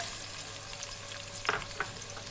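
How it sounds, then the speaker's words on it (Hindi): Onions fry in a cup of hot ghee in a pan with a soft, steady sizzle, faint and close, broken by a couple of brief sharper crackles or stirring clicks, with no voices. "मैंने देख में 1 कप घी गर्म किया है। इसमें हम प्याज डाल देंगे"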